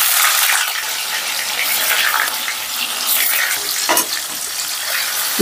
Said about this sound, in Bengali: এবারে পনিরগুলোকে হালকা করে ভেজে নেব